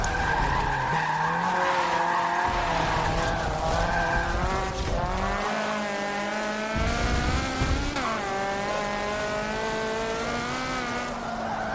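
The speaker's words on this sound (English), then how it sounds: "I'm trying to drift here." Car drifting in Forza Motorsport 7 with an angle kit fitted, engine note rising and falling steadily while tires squeal and skid through corners almost continuously, loud and close, with no talk.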